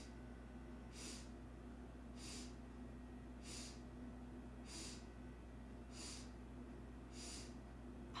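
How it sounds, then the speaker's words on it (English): Seven quick nasal sniffs inhaled in an even, steady rhythm during a yoga breathing practice, each short and soft, close and alone over a faint low room hum. "And again, 7 sniffs in."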